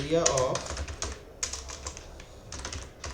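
Rapid key clicks from C code being typed on a computer keyboard, a close, steady run of taps with brief pauses, over a faint background voice near the start.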